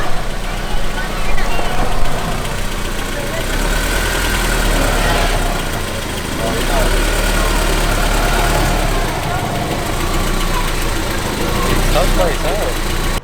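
A Honda S2000 with a new Stoptech big brake kit makes slow stops to burnish its pads and rotors, a steady engine rumble and road noise that rise and fall gently throughout, with people talking.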